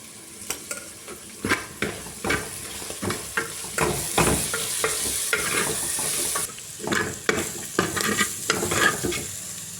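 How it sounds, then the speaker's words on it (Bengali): Spice masala with cumin and chili paste fries hard in a pan, a steady close sizzle broken by repeated scraping stirs in an uneven rhythm, with no talking. "মশলা কষানো হয়ে গেল।"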